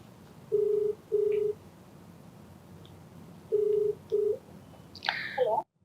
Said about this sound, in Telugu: సో నెంబర్ ఇచ్చారు, నేను కాల్ చేసేస్తాను.